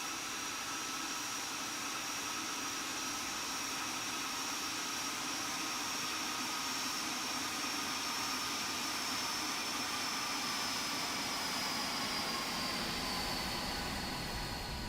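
Embraer E-190 jet engines roaring steadily during a flyby in a flight simulator game, a loud, constant whine and rush over a broad hiss that holds for the whole stretch, with no speech.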